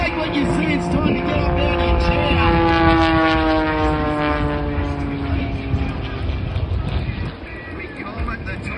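Red propeller aerobatic plane at the Atlantic City airshow, its engine droning loudly with a shifting, rising and falling pitch as it maneuvers overhead, continuous over the whole stretch.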